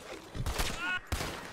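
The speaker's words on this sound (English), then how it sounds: "She's shooting me!" A few sharp gunshots ring out in Red Dead Redemption 2 gameplay, brief cracks over a busy game soundscape, with a voice speaking between the shots.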